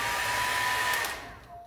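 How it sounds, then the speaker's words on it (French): A hair dryer pressed into service as a blower, running steadily with a loud, broad whoosh and a constant motor whine, then easing off toward the end as the airflow drops. "C'est le sèche-cheveux de ma femme que j'utilise"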